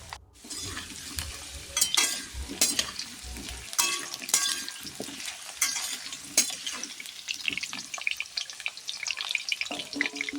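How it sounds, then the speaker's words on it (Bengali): Potatoes frying in mustard oil, a steady sizzle broken by repeated scraping stirs of a spoon against the pan, close and fairly loud with no talk. "সরিষার তেল দিয়ে আলুগুলো ভালো করে লাল করে ভেজে নেব।"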